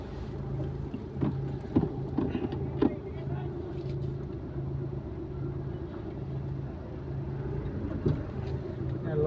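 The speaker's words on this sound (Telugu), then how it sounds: "ఈ ఎదరు లారీ పెట్టుకొని వెనక కూడా వస్తూ ఉంటుంది." A lorry rolls past on a village road near homes, one of a long line of trucks, giving a steady low engine rumble close by with voices talking over it.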